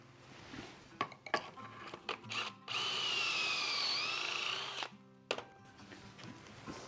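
A power drill with a pocket hole jig bit whines steadily for about two seconds, boring through wood, with clamp clicks and workshop handling noises before and after.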